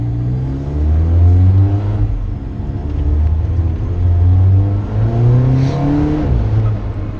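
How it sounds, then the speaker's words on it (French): A sports car engine, an Alfa Romeo 4C or Lotus Exige S V6, drones loudly at close range from inside the cabin, revving up and down with a downshift blip near the end. "le petit plop-plop à l'échappement quand on rétrograde, ça c'est sympa."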